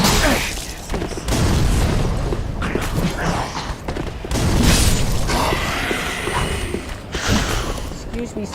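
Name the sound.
fireworks exploding in Dark Souls 3 video game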